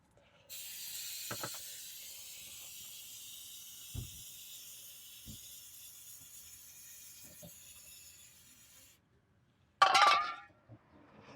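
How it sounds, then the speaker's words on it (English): Brake cleaner sprayed from an aerosol can onto a Ram 1500 transfer case: a steady close hiss for several seconds, a few faint clinks, then a short sharp spray burst after a brief pause. "we're going to clean off the transfer case again with the brake clean"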